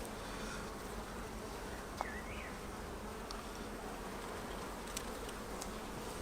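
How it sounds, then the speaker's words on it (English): Honeybees hum steadily around an open hive, a dense, even buzz that stays at the same level throughout, with a couple of faint clicks and a brief higher tone near the start. "The bees are pretty calm today,"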